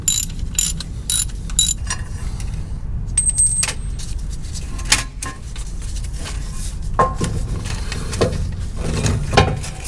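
Ratchet wrench clicking in rapid bursts as exhaust manifold bolts come off a Dodge RAM 1500 during a shorty header install, with metallic tool clinks and rattles close by.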